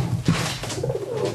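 A racing pigeon held up for sale coos close by in low, throaty, repeated rolls over a steady background hum, with no speech.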